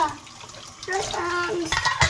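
Tap water pours into a tub or basin during a child's bath in a Finnish home, splashing loudly in short bursts while a child and an adult talk over it.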